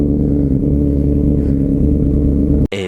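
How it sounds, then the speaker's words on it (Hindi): BMW S1000 RR superbike engine on a cold start, a steady loud idle with layered low harmonic drone and a light mechanical clatter, cutting off abruptly near the end. "जल्दी से अपने बीस्ट को करते हैं कोल्ड स्टार्ट और फिर अपन राइड स्टार्ट करते"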